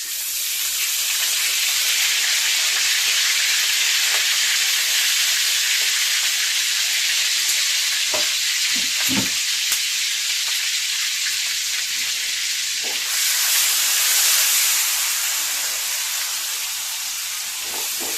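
Garlic paste, cumin paste, chopped onion and ginger juice frying over medium heat for a tiger prawn khichuri, a loud continuous sizzle and crackle that lasts throughout with occasional sharper pops.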